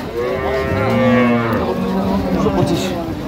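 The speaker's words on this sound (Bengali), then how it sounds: "এইটা গাভী বাছুর" A dairy cow moos loudly and close by at a cattle market, a long drawn-out call with another lower moo overlapping it.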